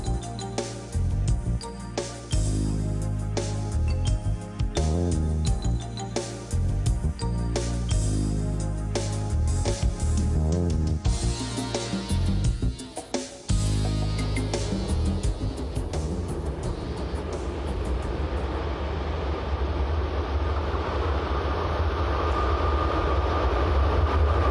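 A Swiss train runs through a 1,655-metre loop tunnel, its steady rumble and rhythmic wheel clatter loud and continuous, shifting into a smoother, hissing roar in the second half with no talk.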